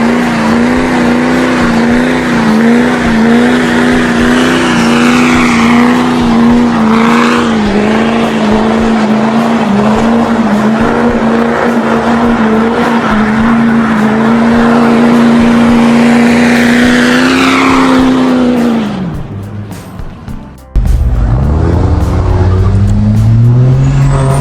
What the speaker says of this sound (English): the two JZ Swap S13s roll out